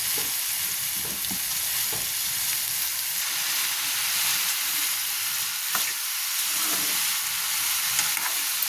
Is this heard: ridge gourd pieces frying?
yes